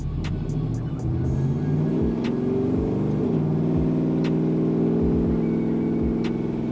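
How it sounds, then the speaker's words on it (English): A cammed 6.0L V8 swapped into an OBS truck runs on a dyno, a loud steady engine drone with rising and falling revs and a rough lopey tone throughout, with no talk. "So let's go ahead and put this thing in gear and get rolling."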